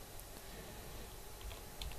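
Quiet, rapid keystrokes on a computer keyboard, a faint continuous patter of clicks with no talking.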